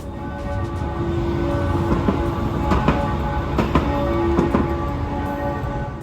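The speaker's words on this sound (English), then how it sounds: "these green trams shown in the video are the newest in the fleet" A new green Bucharest tram, built in Romania, rolls along its tracks with a steady humming drone and a few sharp, rhythmic wheel clacks over rail joints, moderately close and with no talking.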